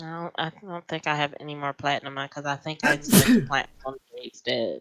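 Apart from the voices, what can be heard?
sneeze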